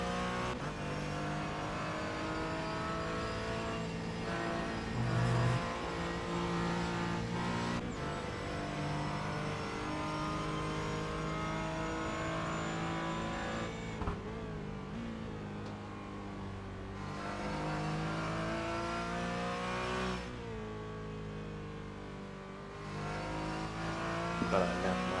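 A race car engine drones continuously in the iRacing Nürburgring 24-hour sim race, rising and falling through gear shifts and throttle changes, loud and close without talk.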